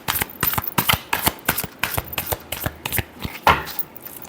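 Tarot cards shuffled by hand, a rapid series of crisp riffling slaps and flicks in an irregular rhythm, close and fairly loud, with no voices.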